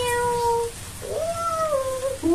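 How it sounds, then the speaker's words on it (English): A cat meows a few times, clear and close, with drawn-out tonal cries and short pauses in between. "Meow. Who is that? Cat."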